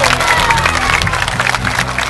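Dense, steady crowd applause and cheering at a political rally in Pozorrubio, Pangasinan, loud and continuous throughout with no pauses.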